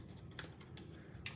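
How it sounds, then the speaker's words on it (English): Paper being cut with scissors during a card-making craft session: quick snipping strokes at close range, with a sharper cut near the start and another near the end, and no talk. "So, I'll go ahead and cut this out."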